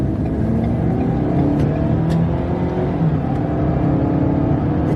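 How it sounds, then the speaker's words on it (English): A 2022 Ford Maverick Lariat AWD turbocharged pickup accelerates hard, its engine note a loud, steady, close drone heard from inside the cab, with a faint whir over the top and no talking. "we're going to get out in front of this traffic and see how quickly we can accelerate"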